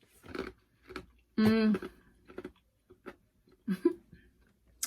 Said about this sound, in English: Sorry, guys, for the ice crunching.